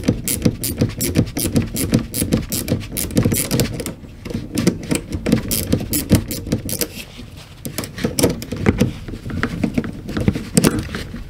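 Ratchet wrenches click rapidly and continuously during work on a BAL Accu-slide room motor and gearbox, dense close-up patter of metallic ticks with brief pauses, no talking.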